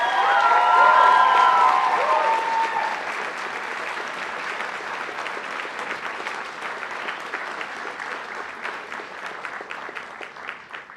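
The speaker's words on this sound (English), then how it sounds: "Let's have one more round of applause for her." An audience at a college honors convocation claps loudly and continuously, with a brief cheer near the start, then the applause gradually thins out toward the end.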